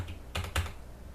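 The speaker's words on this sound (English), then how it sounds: "I would type in, let's say, 25566" Two quick keystrokes click on a computer keyboard close by, spaced a fraction of a second apart against a quiet room, with no speech.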